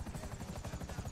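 Helicopter rotor chopping in a video game, a loud steady rhythmic thumping with several choppers close by, filling the whole moment without talk.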